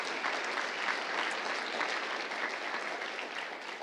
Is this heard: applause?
yes